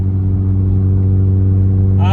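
A Toyota Matrix cruises at about 60 mph in fourth gear with a very loud, steady engine drone and strong low hum, recorded from the cabin, while a person talks over it.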